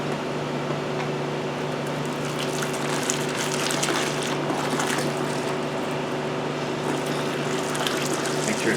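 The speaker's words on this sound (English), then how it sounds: "So now I'm just going to let some water flow straight through it." Water flushing through a car heater core from a hose after a CLR cleaning, a steady continuous rushing and gurgling flow with a constant pump-like hum, loud and close throughout with no talking.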